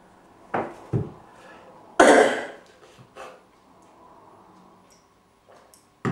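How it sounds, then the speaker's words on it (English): A man coughs and clears his throat several times in short bursts, one harsher and louder than the rest, with quiet gaps between, during a sermon-style talk. "Sorry for the coughing, folks."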